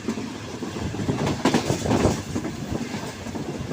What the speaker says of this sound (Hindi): अब अवाम एक्सप्रेस HGMU30R लोकोमोटिव के साथ रन पठानी रेलवे स्टेशन के ऊपर पहुंच जाएगी।